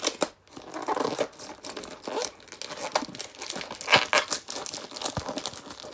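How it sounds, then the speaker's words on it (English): Packing tape is pulled, torn and pressed onto a Priority Mail flat rate envelope, giving close, crinkly tearing and rustling sounds in irregular bursts. "Another piece of tape to catch this side right here."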